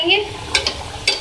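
Keema kachori frying in hot oil, a soft steady sizzle under a couple of quick metallic clinks from a spoon or ladle against the pan, heard up close.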